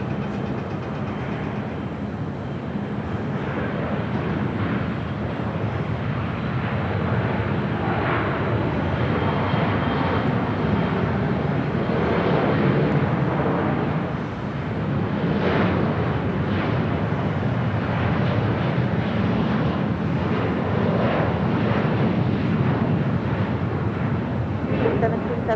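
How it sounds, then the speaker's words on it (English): An Air Canada Airbus A330-300 taxies at LAX, its jet engines giving a steady, loud broadband roar that holds throughout with only a brief dip midway; radio chatter is faintly mixed in. "Also the Air Canada A330-300. We'll be heading back to Toronto. Starting our taxi there on Bravo."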